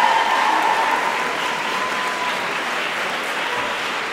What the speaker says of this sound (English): Can we give everybody a huge round of applause?